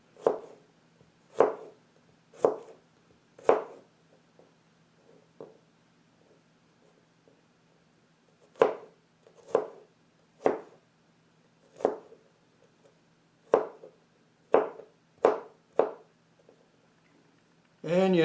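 A knife chops garlic on a board in a home kitchen, sharp distinct knocks in loose clusters of three or four with pauses between them, close and clear.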